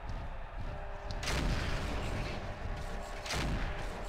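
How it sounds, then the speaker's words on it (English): Autocannon 5 fire in MechWarrior 4: Mercenaries, two heavy booming blasts rising over a constant low rumble of background noise, moderately distant and fairly faint. "I like the sound of the autocannon 5"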